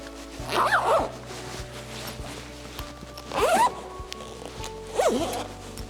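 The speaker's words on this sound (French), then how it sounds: "Et ensuite, vous fermez. La fermeture éclair." A zipper on a parasol is pulled closed in three distinct strokes, each a short rasping zip, close and clear with quiet pauses between.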